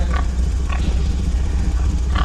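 Short nasal pig grunts repeat three times over a loud low rumble, close and fairly strong, in an animated horror cartoon.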